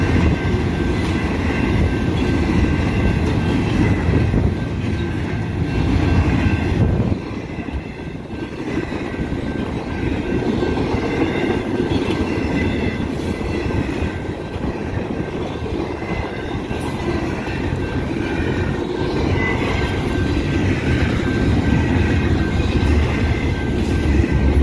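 An eastbound Union Pacific intermodal freight train, UP 2652, rolls past the Tangerine Road railroad crossing in Marana, Arizona, producing a loud, sustained rumble of wheels and cars with occasional faint wheel squeals.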